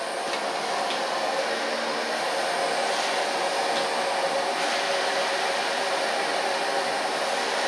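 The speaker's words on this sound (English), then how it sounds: "Make sure that the heat of the blow dryer flows the wax." A blow dryer whirs steadily and loudly from start to finish, a constant airy roar with no talking.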